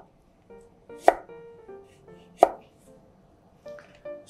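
A kitchen knife chops a washed, unpeeled carrot into thin matchstick strips on a board, two sharp, distinct cuts a little over a second apart over faint background tones, with no talk.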